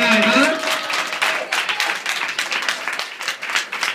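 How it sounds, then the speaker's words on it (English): An awards ceremony audience applauds with loud, uneven clapping, while close voices and cheering run over it throughout and one voice opens above the crowd. "Let's give another round of applause for Numb Faces for crying tonight, huh?"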